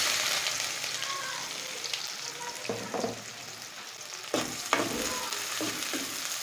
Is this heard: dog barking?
no